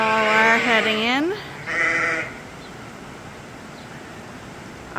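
Two loud bleats from a sheep close by at a pasture with ewes and lambs, the first long and wavering, the second shorter, followed by quiet outdoor hiss.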